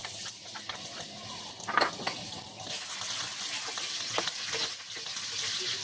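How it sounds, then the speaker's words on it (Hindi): Finely chopped onion frying in mustard oil over a low flame for an aloo palak dish, a close, continuous crackling sizzle with occasional louder pops and stirring scrapes. "प्याज को भी हम लो फ्लेम पर फ्राई करेंगे यहाँ तक कि ये लाइट गोल्डन कलर की हो जाए"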